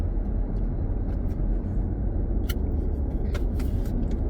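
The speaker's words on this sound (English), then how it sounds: "Okay, so this is where the traffic is." Steady road traffic rumble heard from inside a moving car on the way toward Westport and Norwalk, a continuous low drone with a few brief sharper ticks and passing noises, no talk.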